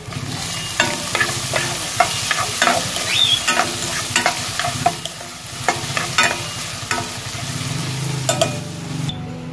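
Ginger and garlic sauté in a hot pan, sizzling loudly up close while a utensil scrapes and stirs in repeated uneven strokes.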